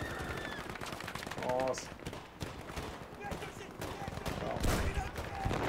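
Rapid bursts of gunfire and automatic weapon fire crackle in a Battlefield V match, dense and loud throughout with distant impacts, while someone speaks briefly over the shooting.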